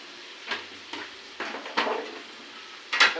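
Potatoes seasoned with turmeric and salt are stirred in a frying pan with a utensil. Several separate scraping strokes come at roughly half-second intervals, close and fairly quiet, over a faint sizzle with no talking.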